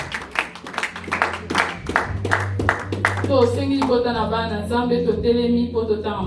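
A church congregation claps in rhythm at a French-language service, a run of sharp, close handclaps that gives way to voices singing and acclaiming together over a low instrumental backing.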